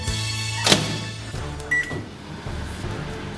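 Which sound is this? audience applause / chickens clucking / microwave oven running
microwave oven running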